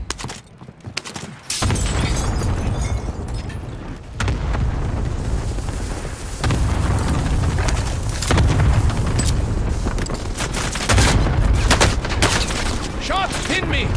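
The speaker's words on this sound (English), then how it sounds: "Airstrike deployed at my mark." Airstrike explosions in Call of Duty: Modern Warfare, a barrage of loud, dense booms and rumbling blasts rolling continuously over about fourteen seconds, with gunfire crackling in between and faint voices underneath.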